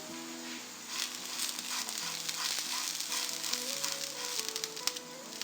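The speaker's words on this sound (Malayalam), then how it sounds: "ഇതൊന്നൊന്ന് മൂപ്പിച്ച് കൊടുക്കാം." Onion masala frying in a pan with curry leaves and coriander leaves for a Thalassery kalmas snack: a steady, soft sizzle with light stirring, continuous throughout, with no talk.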